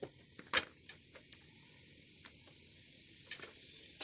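Mustard and other tempering seeds hitting hot oil in a pan for aloo besan tomato curry, giving a faint steady sizzle with scattered sharp pops and crackles spread across the moment.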